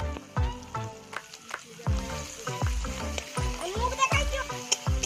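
A spice paste of tomato, ginger, cumin-coriander and mustard paste with its soaking water fries in a pan for rui fish, sizzling in uneven bursts beneath a voice that talks throughout.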